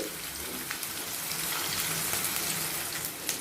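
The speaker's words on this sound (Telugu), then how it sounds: "ఆయిల్ వేడెక్కింది వీటిని ఒక రెండు సార్లుగా మనం ఫ్రై చేసేసుకోవాలి" Sliced onions sizzle and crackle in hot oil, browning for a Hyderabadi chicken dum biryani, a steady close hiss with scattered pops, no talking.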